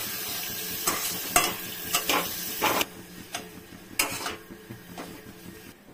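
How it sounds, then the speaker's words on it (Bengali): Lentil paste fried in oil in a pan and stirred hard, with a run of loud, rhythmic scraping strokes over a steady close sizzle and no voices. "খুব নাড়তে হবে, নাড়লে পরে জিনিসটা এই যে এরকম হয়ে যাবে"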